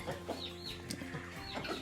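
Farm chickens, Leghorn, Australorp, Rhode Island Red and Plymouth Rock breeds, cluck and chatter continuously at close range with overlapping calls.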